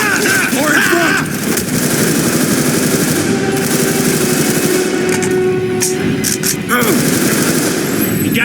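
Rapid automatic gunfire from the Black Ops 2 campaign, dense overlapping bursts with sharp cracks, loud and close, broken by a couple of brief pauses and mixed with game sounds.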